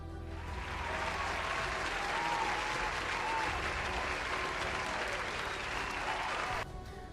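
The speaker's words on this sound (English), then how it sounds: "let's give a round of applause for Piro." A crowd claps in sustained, even applause for several seconds, fairly close, then it abruptly cuts off near the end.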